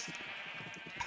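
Sheep bleating in a blocky video game world, a soft run of short wavering bleats close by, fairly quiet and with no talk over it.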